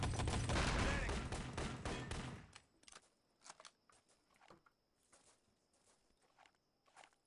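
Rifle fire in the online shooter Enemy Territory Legacy during a competitive match: a dense burst of loud gunfire and action at the start, then scattered sharper shots and clicks at lower volume.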